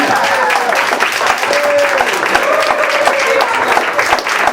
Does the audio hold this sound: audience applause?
yes